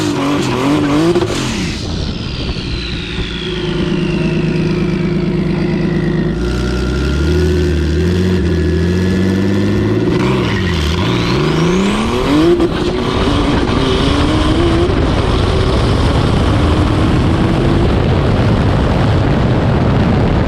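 A turbocharged BMW Z-Kart races another turbo BMW down an eighth-mile drag strip: loud engines rev and climb through gears with tire squeal, then the roar builds and sustains steadily close by.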